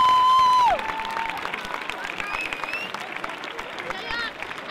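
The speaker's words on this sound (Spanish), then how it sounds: "un fuerte aplauso a las majas salientes del" A crowd at a proclamation event for the 2017 majas applauds the outgoing 2016 majas, a steady wash of clapping and cheering that follows a sharp microphone feedback squeal at the start, with voices mixed into the noise.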